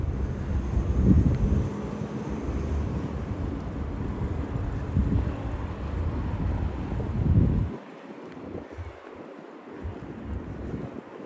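Outdoors on a Brooklyn street, wind buffets the microphone in loud, low rumbling gusts that ease off briefly toward the end.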